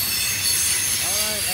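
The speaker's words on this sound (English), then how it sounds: "This is a very noisy train." A loud, noisy train rolls past close by, its wheels squealing against the rails over a steady roaring rumble, with shrill rising and falling tones near the end.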